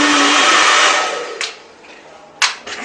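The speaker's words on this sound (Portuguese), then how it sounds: "O secador é bué fixe, não sai daqui, mas tem bué potência." A powerful wall-mounted hair dryer in an apartment bathroom in Madrid blows loudly and steadily for about a second, then winds down. A couple of sharp clicks and knocks follow.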